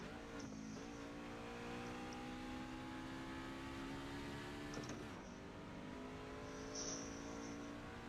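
A race car engine held at full throttle in the iRacing sim, a steady loud drone with rising harmonic pitch, a brief dip and shift around the middle, and faint tire noise over it.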